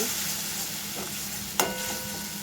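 Masala seasoned with Kashmiri chili powder sizzling in a pan for a sesame prawn curry, a brief steady hiss broken by one sharp utensil tap.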